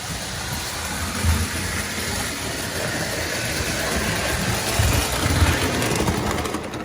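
A roughly 70-year-old vintage Lionel toy train spins its wheels without enough tractive effort, producing a constant loud whirring motor drone with slight surges and no pauses.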